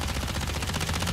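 Rapid SMG fire in a Call of Duty Mobile battle royale match, a dense continuous burst of automatic shots, loud and close, filling the whole moment with no talk over it.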